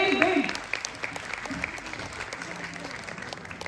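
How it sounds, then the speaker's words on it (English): A crowd applauds teachers at a spiritual empathy gathering, with a burst of clapping that starts strong and gradually tapers off, while a voice speaks over the opening moments. "A big round of applause for our teachers."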